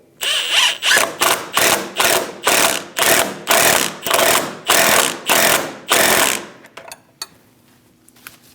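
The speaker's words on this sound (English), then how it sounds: "Snug down the bolt." A ratchet wrench snugs down a suspension bolt on a 2001-2006 Chevrolet Silverado 2500 HD, with about a dozen loud, evenly spaced ratcheting bursts, close up, then quiet.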